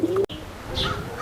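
Oriental Roller pigeons coo softly inside a young-bird loft. There is a short call near the start, a brief break, and then more muffled coos and chirps over a low background hum.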